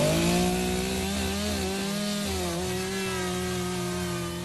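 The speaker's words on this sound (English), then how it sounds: "a chainsaw-wielding police officer breaking into a home in Essex" A police officer's chainsaw cuts through a door while breaking into a home in Essex: a steady motor whine with wavering, dipping pitch as the blade bites, moderately loud and continuous with no voices.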